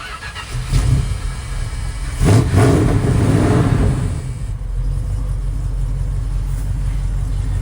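A 1976 Dodge Californian engine cranks, then catches with a throaty burst of revving and settles into a steady, low idle rumble heard up close on a cool morning.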